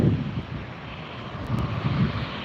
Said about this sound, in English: That's Norse Flight 31D that just arrived from Paris, Charles de Gaulle Airport. 787-9 Dreamliner.